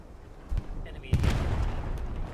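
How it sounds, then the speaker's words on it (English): Artillery strike falling on the front line in a World War II battle video game, a couple of muffled booms and a rumbling impact at mid distance over steady battlefield noise. "Artillery strike falling on the front line."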